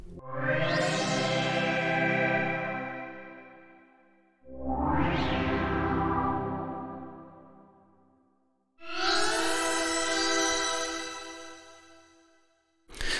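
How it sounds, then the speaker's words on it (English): Three long sustained synthesizer chords in Serum with a chorus effect, each swelling in with a shimmering, wavering chorus-thickened tone and fading, followed by a brief fourth note at the end; no talking. "So let's try a chorus. Chorus is generally nice on synthesizers."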